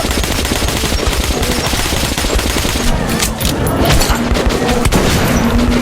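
Rapid gunfire from a shooter game, Metro Last Light, blasting at a horde of mutants; dense, loud bursts of shots and booms run continuously throughout, with no speech over them.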